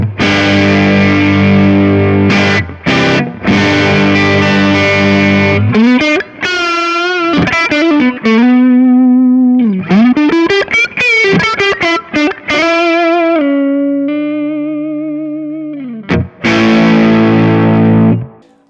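A distorted electric guitar runs through a Kemper with the tone control turned down to 2.5, playing loud chords and then singing, vibrato-laden lead lines with brief breaks between phrases, with no voice over it.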